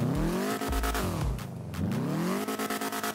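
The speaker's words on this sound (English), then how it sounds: "the sound of this vehicle also has been changed to a supercar sound" Custom supercar engine sound on a spawned vehicle in GTA V on a FiveM server, revving hard and steadily with pitch sweeps up and down through gear changes, loud and close with no talk.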